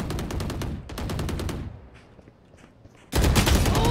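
Rapid bursts of gunfire from the Valorant shooter game, loud and close, in quick successive volleys with a short quieter lull before a heavy final burst.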